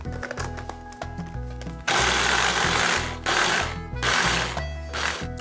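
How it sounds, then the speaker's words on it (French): A food processor pulses rhubarb coarsely for jam in short, loud, close bursts of whirring motor with gaps between them, starting with rapid chopping knocks and then longer roaring pulses. "Puis ensuite, on va la pulser au robot."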